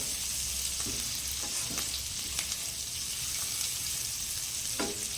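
Finely chopped green chillies frying in hot oil for a Gujarati moong dal pulao, a steady hiss with scattered sharp spluttering pops and crackles, fairly quiet and with no voices.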